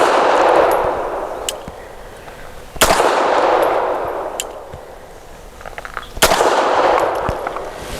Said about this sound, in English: I'm going to run double action first shots.